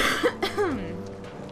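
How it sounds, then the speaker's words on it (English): One person coughs close to the microphone in a short, throaty burst with a rough throat-clearing quality, followed by a voiced trailing sound and then quiet. "My apologies for coughing."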